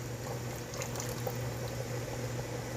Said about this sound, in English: This is that saffron milk being poured in here with the mix of that last bit of tomato stuff in here.